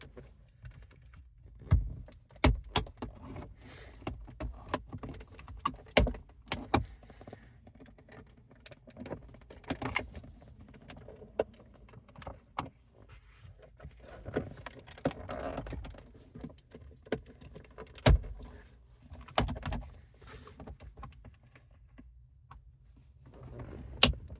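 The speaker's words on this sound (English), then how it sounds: "We're going to force it into the gap here around the edge to start pulling up the clips" A tool prying up the plastic trim panel clips on a Hyundai Tucson produces scattered, close plastic clicks, snaps and scrapes in an irregular pattern over a quiet background.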